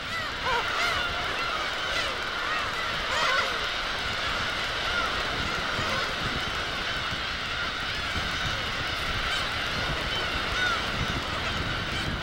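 Black-tailed gulls gather around a fishing boat loaded with fish off Hongdo island, their honking, squealing calls overlapping in a continuous crowded chorus over a constant background rush.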